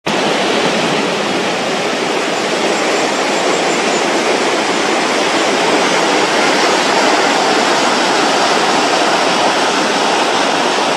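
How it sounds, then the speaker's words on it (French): The Saut du Doubs, a 27-metre waterfall on the Doubs river, roars as a loud, constant broadband rush of falling water with no pauses, heard close and alone throughout. "Le saut du Doubs est une chute de 27 mètres, précédée par une retenue naturelle appelée bassin du Doubs."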